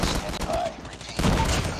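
Burst shotgun firing in the video game Call of Duty Mobile: two rough, loud bursts of shots close together over a noisy, busy game background.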